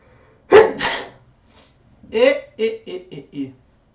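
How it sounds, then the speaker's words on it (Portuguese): A single sharp sneeze, followed by a short pause and then someone talking. "Precisava desse espirro."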